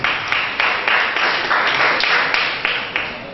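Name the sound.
audience applause at a meeting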